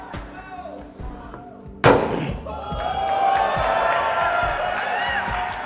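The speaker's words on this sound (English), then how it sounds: "Now hit the CyberTruck. Hit it harder." A sledgehammer strikes the door of a Tesla Cybertruck at a live launch event, one loud close metallic thud followed by a large crowd cheering and roaring.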